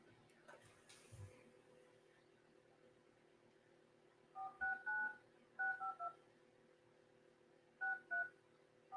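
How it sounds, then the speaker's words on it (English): Telephone keypad tones sound in short clusters of quick beeps, three bursts of dialing spread over several seconds against a quiet background hum, with a brief faint knock early on. "I'm going to give Joe a call"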